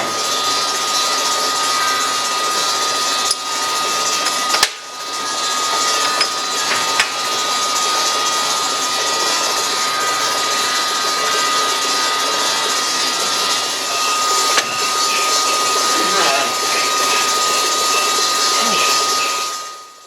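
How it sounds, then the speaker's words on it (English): A power drill whines loudly and continuously while drilling holes in the back of a rock saw, with short pauses and catches as the bit bites, grinding on for a long stretch. "drill some holes to the backside, go one size, grow a bit bigger"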